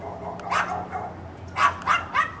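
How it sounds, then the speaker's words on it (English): A small dog barks in short yaps, a few spaced barks followed by a quick run of three, fairly close and alone with no talking. "That little dog thinks he's so big."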